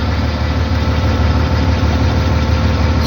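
A truck engine idles steadily and loudly after a differential repair, a close, constant low rumble with no audible whine or knocking and no voices.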